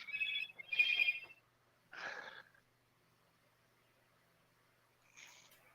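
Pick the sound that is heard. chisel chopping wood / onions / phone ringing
phone ringing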